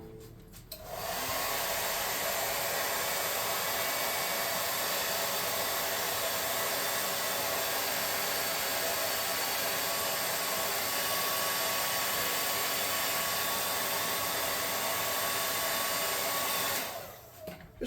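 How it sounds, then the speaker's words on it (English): Hot air gun blowing loose baking soda off a tabletop terrain piece for a desert camp, a loud steady roaring whoosh running unbroken for most of the clip before cutting off. "blow it off with the hot air gun"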